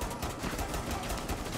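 Rapid gunfire bursts in Rainbow Six Siege, dense and continuous over a short stretch, fairly loud and close with no talk over it.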